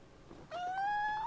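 Michi, a loudly purring house cat, lets out a brief rising, tonal complaint when picked up, a short grumbling cry of about a second, heard close and clear.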